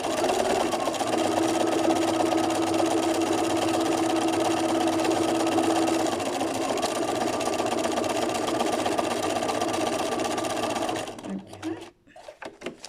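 A sewing machine runs steadily for about eleven seconds while doing machine embroidery, a continuous loud mechanical whir that stops abruptly near the end, followed by a few faint clicks and a brief spoken word.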